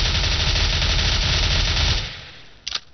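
An MP7 submachine gun sprays a rapid, continuous stream of shots in Counter-Strike: Global Offensive, loud and close, then cuts off and fades out, with a brief clatter just before the end.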